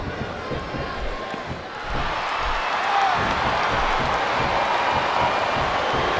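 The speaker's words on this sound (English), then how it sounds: "This capacity crowd is making their opinions known tonight." A large arena crowd in the wrestling video game WWE SmackDown vs. Raw 2007 roars and murmurs steadily, swelling louder partway through, with a commentator's voice faintly mixed in.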